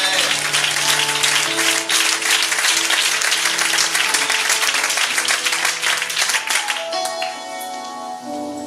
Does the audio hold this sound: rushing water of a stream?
no